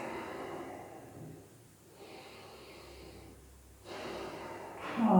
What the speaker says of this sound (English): and give it a couple breaths.